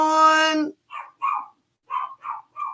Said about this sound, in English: Teddy's barking. Hold on.